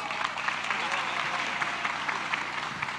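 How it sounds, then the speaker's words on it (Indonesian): An audience at a young entrepreneurs' political declaration event for Prabowo-Gibran applauds, a dense steady clapping that fills the hall from start to finish with voices under it. "Kita berikan aplaus."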